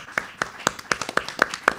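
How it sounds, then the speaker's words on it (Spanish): Audience applause for a translator at the close of a talk session, heard as a sparse, steady run of about seven distinct claps at an even rhythm, close and moderately loud, with no speech over it. "Un aplauso para la traductora"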